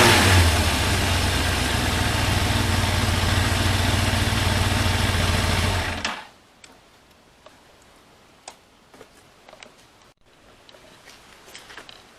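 A Yamaha Thunderace motorcycle engine, its carburettors freshly balanced, runs loud and close for about six seconds with a steady rev, then cuts off abruptly, leaving quiet outdoor background with a few faint clicks.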